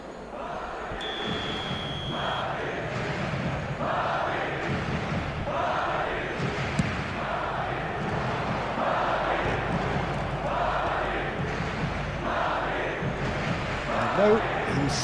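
Stadium crowd noise from an eFootball match, a steady roar of cheering and chanting that swells in waves throughout, with a commentator's voice partly audible over it.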